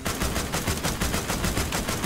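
Sustained automatic gunfire from a tank battle in The Walking Dead: Destinies video game, a loud, rapid stream of shots pulsing evenly for about two seconds with no talk over it.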